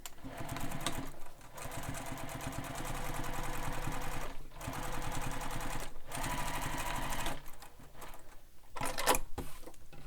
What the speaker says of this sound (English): Now it is optional here to top stitch, and I'm going to top stitch just because I like how it looks.